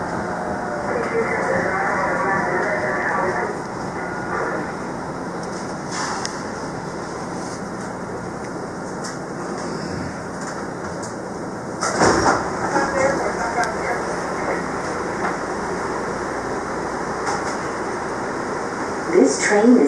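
A MARTA Red Line subway train running toward Airport Station, a loud steady rumbling roar inside the car with a surge partway through, while voices speak over it.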